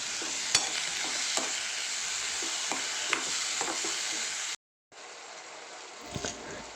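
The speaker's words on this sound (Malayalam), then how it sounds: "എല്ലാം കൂടി ഒന്ന് നല്ലപോലെ ഒന്ന് മിക്സ് ചെയ്ത് കൊടുക്കട്ടെ." Brinjal, shallots, curry leaves and green chilli sizzle steadily in a hot pan as they are stirred for a coconut-free curry, with scattered utensil scrapes and clinks, a brief dropout near the end, then frying resumes.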